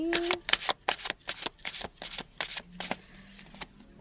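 Tarot cards are shuffled by hand in quick, rhythmic riffles, about a dozen crisp papery bursts heard close and alone.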